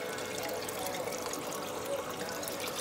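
Water draining into the sump tank of a guppy breeding aquarium setup, a continuous close trickling and splashing wash with no pauses.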